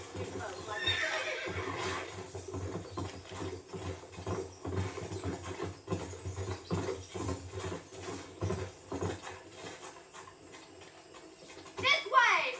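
A horse whinnies several times in the video game Red Dead Redemption, over soft, rhythmic clip-clop of hooves, with a loud neigh near the end and a character speaking throughout.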